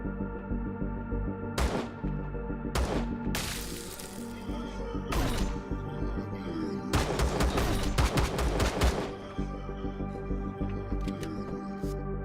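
Shotgun and heavy weapon fire in the space survival game Empyrion Galactic Survival, a series of loud sharp blasts with crashing decays, followed by rapid bursts of shots close together.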